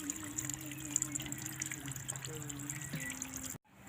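Water sloshes and trickles as an intercooler part from a Toyota Commuter van is washed and shaken: continuous close splashing and dribbling, with a steady tonal hum underneath, ending abruptly.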